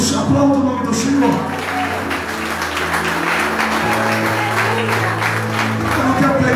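A church congregation claps during a worship service, the applause loud and continuous over sustained low organ or keyboard tones and a murmur of voices.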